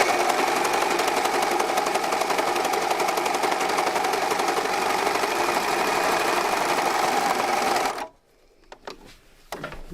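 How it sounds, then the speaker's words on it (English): A non-electric sewing machine stitching a tight bound edge on fabric runs in a loud, steady rapid chatter for about eight seconds, then stops, leaving quiet handling clicks. "So this is a fabric that we're sewing together, and we want a nice tight bound edge."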